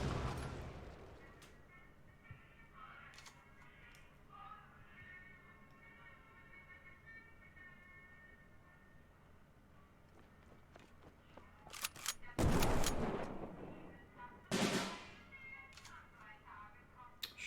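Gunfire attack effect in the World War II card game KARDS: two sharp, loud bursts of shots near the end, after a long stretch of quiet game ambience.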